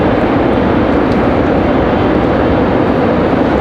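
An American Airlines Airbus A319-100 arrives at Raleigh-Durham International, a loud, dense, continuous engine roar close by and unbroken for a few seconds, with no speech.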